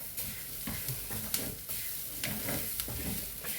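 Grated coconut from one whole coconut frying in a pan, a soft, even crackling sizzle with light scraping strokes of stirring, quiet and close.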